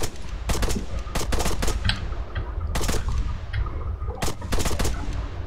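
Rapid gunfire in a first-person shooter video game as three enemies are engaged, loud close bursts of shots cracking in quick clusters with brief gaps between volleys.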